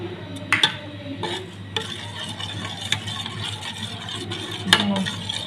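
Ragi ambli with garlic, cashew and cumin powder is stirred in a pot, making soft scraping swishes with a few sharper spoon clinks against the vessel over a low steady hum, close and fairly quiet.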